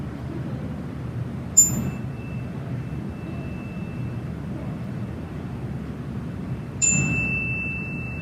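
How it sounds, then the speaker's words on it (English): A meditation bell is struck twice, each ring a bright, clear ding that lingers as a long, fading tone over a low background hum. "I'm going to ring the bell"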